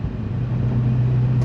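A modified LS7 V8 car, with dropped valves and a 615 hp build, rumbles steadily and loud, with a deep, even engine drone that rises slightly as it pulls.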